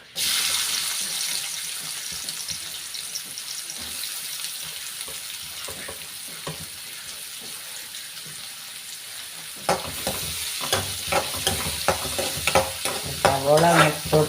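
Sliced onions sauté in coconut oil in a hot pan for Kerala chicken varattiyathu. A steady sizzle runs throughout, with sharper scraping and stirring clatters near the end and no talk.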